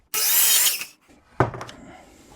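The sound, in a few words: saw cutting a miter in wood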